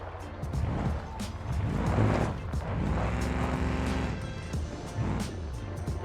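A modded truck engine in the BeamNG Drive video game labors uphill while offroading, a low rumbling drone that surges and bogs unevenly with mechanical rattles, heard up close.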